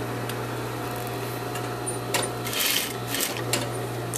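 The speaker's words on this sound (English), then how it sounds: "So I'm going to stitch it the width of my foot" A sewing machine stitches a bias-cut spaghetti strap at a regular stitch length, a steady close mechanical whir with a low hum and a few brief pauses and bumps as the fabric is stretched.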